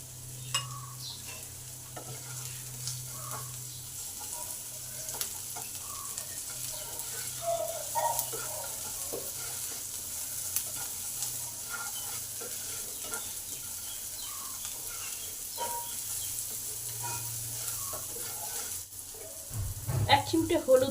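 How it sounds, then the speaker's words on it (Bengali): Onions fry with salt in a pan, giving a continuous low sizzle broken by intermittent scraping stirs, with a louder clatter of handling at the very end. "পেঁয়াজটা তাড়াতাড়ি ভাজার জন্য পরিমাণ মতো নুন দিয়ে দিই"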